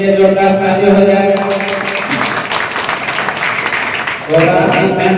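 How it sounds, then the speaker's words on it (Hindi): An audience at a Lokhit Adhikar Party meeting breaks into a few seconds of applause between stretches of amplified speech; the clapping is a dense, steady roar that starts abruptly and stops as the voice returns. "उनके लिए जोरदार ताली हो जाए"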